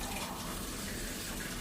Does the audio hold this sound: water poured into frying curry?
yes